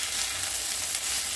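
Bottle gourd peel and potatoes fry in a pan, giving a steady, close hiss of oil with a constant sizzle and no voices over it.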